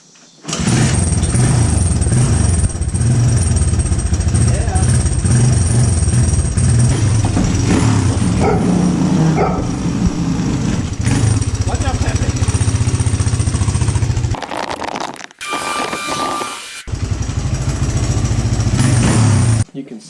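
A Honda XR200R motorcycle, kickstarted, fires up and runs with a loud, close, rough single-cylinder engine note that revs and idles for most of the time, briefly cutting out before running again.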